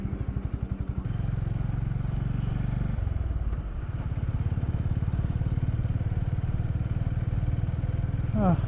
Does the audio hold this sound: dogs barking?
no